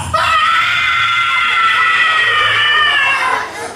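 Storyteller's voice imitating a mouse shrieking, one loud, high, sustained squeal lasting a few seconds, close and alone.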